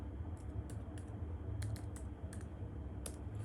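Keystrokes on a computer keyboard as a password is typed during a macOS installation from an external hard drive, a run of soft, irregular clicks close by over a low steady hum.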